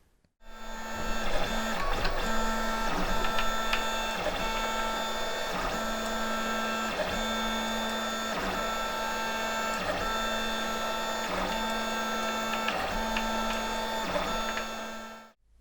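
3D printer running a gear demo print, a steady close whine of stepper motors with layered tones and a regular pulsing pattern throughout, no talking.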